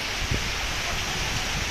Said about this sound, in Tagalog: Sobrang lakas sa ulan at hangin, oh.